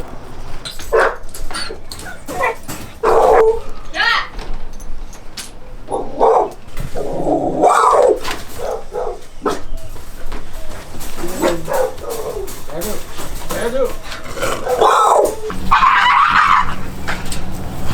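A dog shut in a crate barks repeatedly at close range, with sharp barks and yips separated by short gaps, mixed with occasional whimpers, over a low background hum.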